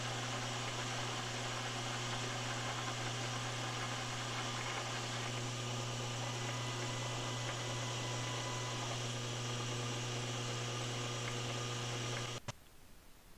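Metal lathe with an electronic leadscrew cutting a thread, a steady mechanical hum and whine with faint cutting noise that stops abruptly near the end, close and alone, without speech.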